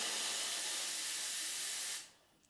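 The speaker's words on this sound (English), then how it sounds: "my frothing milk is not going to be the greatest" Loud, steady hiss of a La Spaziale Dream T commercial-style espresso machine steam wand frothing milk, running strongly for about two seconds before cutting off abruptly and leaving only a faint residual hiss.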